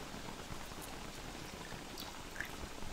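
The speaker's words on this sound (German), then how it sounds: "Und es regnet in der Wüste." Steady rain falling in the desert in the game Don't Starve Reign of Giants, a soft even hiss of raindrops with faint scattered patters, continuous and fairly quiet.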